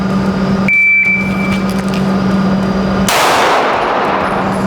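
A single sharp gunshot fired during a draw speed test rings out loud and close after a shot-timer beep and background hum, followed by a brief reverberant decay.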